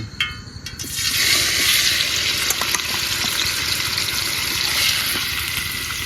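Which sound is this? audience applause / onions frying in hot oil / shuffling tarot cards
onions frying in hot oil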